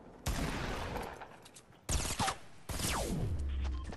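Gunfire rings out in Fortnite Battle Royale, three sharp volleys of shots in quick succession, each bursting in loudly and then trailing off, with no talk over them.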